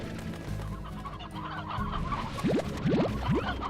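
Many clucking chickens in the video game Slime Rancher, a busy flock of close, layered clucks and squawks with a few rising calls toward the end.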